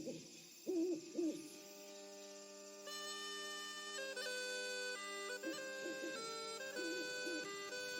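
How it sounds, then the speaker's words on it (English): Owls hoot in a forest at night, a few soft, far-off calls rising and falling over a steady ringing tonal drone, with no voices. "the far-off hoots of the owls"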